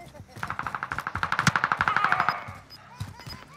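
A Bren machine gun fires in a video game: one rapid sustained burst of roughly twenty-five evenly spaced shots, loud and close, with fainter isolated shots before and after and a voice murmuring underneath.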